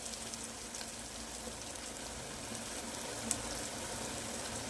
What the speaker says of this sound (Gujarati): બધું સરસ તેલમાં ફ્રાય થઈ જવા દઈએ